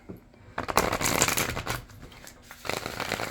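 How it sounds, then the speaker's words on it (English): A large deck of cards riffled and shuffled in bursts of crisp flapping and rustling, pausing briefly before another round; no one speaks. "These larger decks are a little bit harder for me to shuffle."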